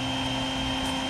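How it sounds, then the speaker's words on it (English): A vacuum runs steadily with a constant motor drone and high whine while sucking up a hornet nest outdoors, with no talking. "That's why you gotta let the vacuum run and do its work."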